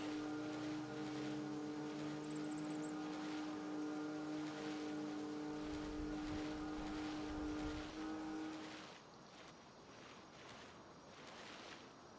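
Tractor engine in the Farming Simulator 25 video game, a steady loud droning hum with strong tonal harmonics that runs continuously, then drops in level and shifts to a rougher, quieter rumble near the end.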